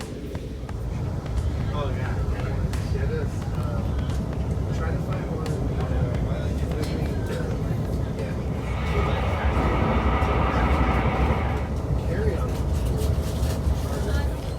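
A Brightline passenger train rolling out of Aventura station, heard from inside as a constant loud rumble and hum of the moving carriage, with people talking over it.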